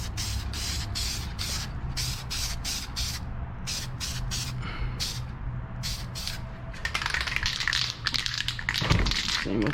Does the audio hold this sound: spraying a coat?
yes